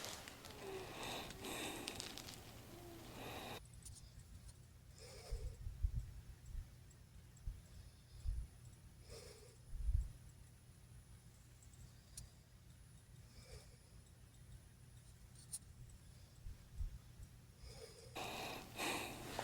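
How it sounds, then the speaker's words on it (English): A woman asleep in bed snores softly, with slow rhythmic breaths and snorts repeating every few seconds at close range in a quiet room. "this was her snoring this morning"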